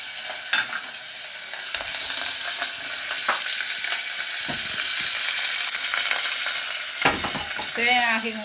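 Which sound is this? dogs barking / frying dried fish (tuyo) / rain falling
frying dried fish (tuyo)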